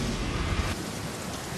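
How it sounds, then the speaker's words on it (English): Heavy, dark downpour over the Italian island of Sicily with thunder, a loud steady roar of rain and low rumbling throughout, no voices. "This thick, black, heavy rainfall seems almost apocalyptic."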